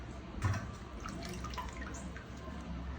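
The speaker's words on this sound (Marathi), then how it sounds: "चाळणीत ठेवल्यानंतर त्याचं पाणी सगळं निघून जाईल।" Water drains from washed raw bananas resting in a kitchen sieve, with soft close trickling and scattered drips over a low, steady background.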